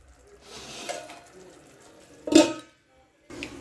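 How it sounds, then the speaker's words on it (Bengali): A lid is set onto a cooking pot of makhana curry with a single sharp clink, which follows soft kitchen rustling and is followed by a short silence. "মাখানিগুলো দিয়ে একটু ঢাকা দিয়ে দেব।"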